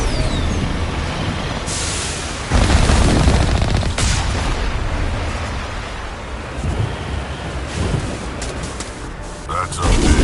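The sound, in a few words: artillery gunfire in the video game Mass Effect Legendary Edition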